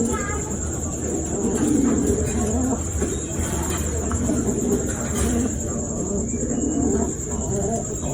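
Several racing pigeons coo in low, soft, repeated phrases close by, over a steady high insect drone, with a voice speaking intermittently.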